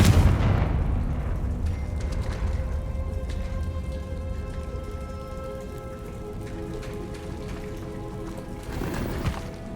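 The explosive Confringo fire spell cast in Hogwarts Legacy: a loud, booming blast at the start that fades into a long rumbling tail over soft tonal ambience, then a second burst near the end.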